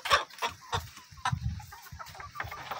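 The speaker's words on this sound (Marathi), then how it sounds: "एकच कोंबडा ठेवलेला आहे सुरुवातीपासून।" Desi village hens and a single large, heavy native rooster cluck nearby, a run of short, uneven clucks and soft calls, fairly close but not loud.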